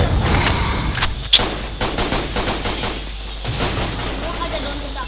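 Rapid bursts of gunfire in the video game Line Of Sight crackle in quick succession, some single sharp shots and some automatic volleys, loud and close throughout.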